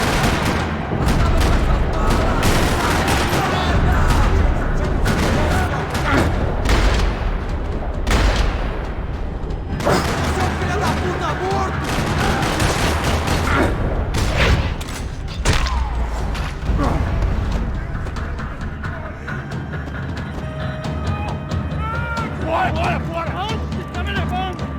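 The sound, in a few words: gunfire in parking lot, from video game Max Payne 3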